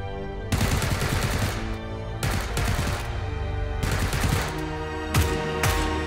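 Gunfire sound effects in a Hindi short film: several bursts of rapid, loud automatic shots in quick succession, each volley lasting about a second, with no talking.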